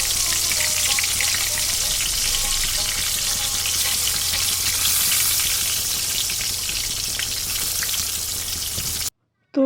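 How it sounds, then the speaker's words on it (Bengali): Eggplant dusted with turmeric and salt, frying in hot oil in a wok, giving a loud, constant close sizzle with light stirring, which cuts off abruptly near the end. "কড়াই তেল দিয়ে তেলটা গরম করিয়ে এলাম এই বাইগুনটা দিয়ে দিব"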